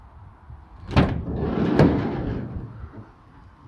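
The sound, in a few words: Renault Trafic van sliding side door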